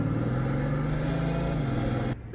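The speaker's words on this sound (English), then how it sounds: "It makes the most amazing sounds. There's whirring. There's growling." A 2013 Bugatti Veyron Grand Sport Vitesse engine whirs and growls with a steady, rising tone, heard close and alone, then drops away suddenly near the end.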